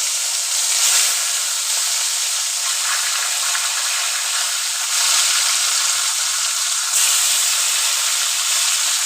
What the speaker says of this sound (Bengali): প্রথমে নুন হলুদ মাখিয়ে মাছগুলোকে ভেজে নিতে হবে।